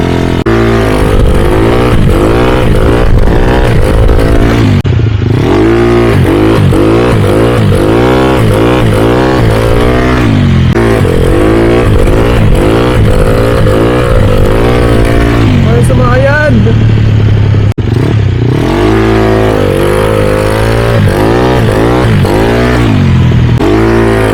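A Yamaha Mio 160cc scooter engine revs hard during wheelie training, rising and falling in loud, repeated sweeps close by, while a voice talks over it for much of the time.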